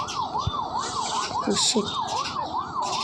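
A wailing ambulance siren in the Rope Hero video game, its pitch sweeping up and down in a steady repeating cycle, loud and continuous, with a brief exclamation and some game crashes and bumps.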